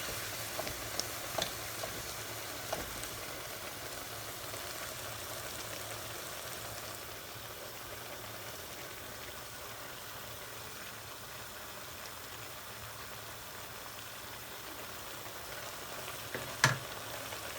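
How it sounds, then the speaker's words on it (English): Wild rabbit stew with stock in a heavy pot coming to the boil, a soft continuous bubbling hiss with a few faint knocks, quiet and close. "She's starting to boil now."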